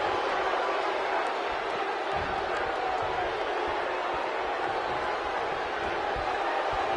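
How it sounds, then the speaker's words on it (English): A crowd cheers steadily in a WWE Monday Night Raw wrestling video game, a constant, loud roar of arena noise with scattered thumps and shouts. "the crowd is loving Sasha's act"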